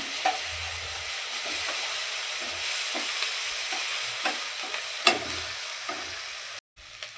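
Ginger garlic paste fries in a pan for a goat blood fry, a continuous hissing sizzle with soft scrapes and taps of a spoon stirring at intervals, and a brief drop to near silence near the end.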